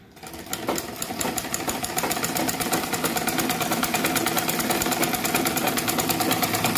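A Singer or Butterfly domestic sewing machine runs steadily after its upper thread tension has been tightened, a fast, even mechanical clatter of needle strokes that starts up and holds a constant rhythm throughout, close and fairly loud with no talking.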